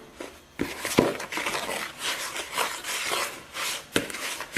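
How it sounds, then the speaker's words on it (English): Spoon scraping and stirring apple pie filling spiced with nutmeg in a bowl, with rhythmic close-up scrapes and rubs and occasional sharper knocks, no talking. "Kind of stir it around a little bit."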